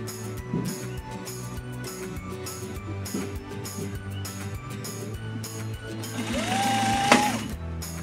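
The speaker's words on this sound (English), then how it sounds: "so I just top stitch them down" A sewing machine top-stitches a zippered bag in a steady rapid mechanical chatter, stopping and starting in short runs, with a brief higher whir near the end.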